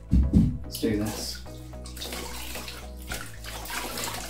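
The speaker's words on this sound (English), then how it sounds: "Generously pour your distilled water, or in this case reverse osmosis water, over the mirror." Reverse osmosis water poured generously from a tub over a telescope mirror, a splashing, gushing pour at the start that settles into running, trickling water with a faint tonal ring, continuing to the end.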